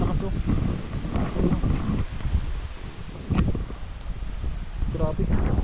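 Strong typhoon wind roars and buffets the microphone in a continuous broadband gust at a market, with rustling surges and brief voices near the end.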